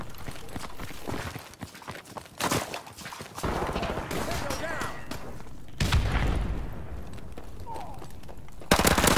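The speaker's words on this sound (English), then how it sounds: "we're gonna run it up with the mini Uzi again" Mini Uzi submachine gun fire in Modern Warfare Remastered team deathmatch comes in repeated rapid bursts over busy game noise, loud and close, with a sharper burst at the end.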